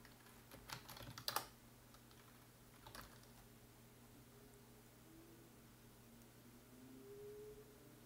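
Soft, quick keystrokes on a computer keyboard enter a terminal command, a short burst of taps near the start and a few more a moment later, then quiet room hiss.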